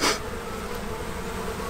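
A steady, dense buzzing of many honey bees around a hive fills the space continuously, close and moderately loud, with no voices.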